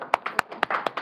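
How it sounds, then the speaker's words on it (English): A small group claps in short, uneven bursts, several sharp hand claps ringing out close and bright with brief gaps between them, no voices over them. "Round of applause."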